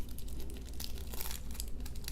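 Paper wrapping around a sapphire watch crystal crinkles and rustles close up as it is unwrapped, a dense crumpling sound with a few sharper crackles.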